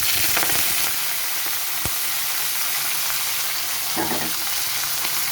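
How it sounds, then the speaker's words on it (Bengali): Dried red chillies and tempering spices sizzling in hot oil, a loud continuous hiss and crackle up close, with a sharp clack partway through and brief bursts of stirring, no talking. "আর এইখানে দিয়ে দিচ্ছি শুকনো লঙ্কা আর ফোড়ন দিয়ে দিচ্ছি"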